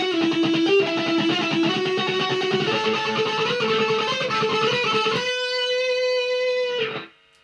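Loud distorted electric guitar runs through two joined riff parts of a song, fast driving picked notes for about five seconds, then a held chord rings out before stopping abruptly; no voices.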